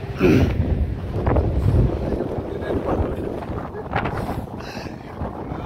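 Gusts of wind buffet the microphone in loud, uneven rumbles at Tiger View Point, Lonavala, rising and falling over several seconds with a voice faintly mixed in.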